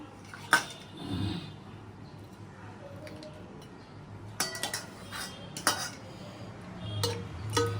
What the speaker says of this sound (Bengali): বাদ বাকি মাংসটা আমি হাতা দিয়েই দিচ্ছি